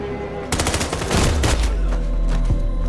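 Bursts of rapid gunfire from the Westworld TV series crack out sharp and loud in quick repeated volleys, over a deep low rumble and a musical score.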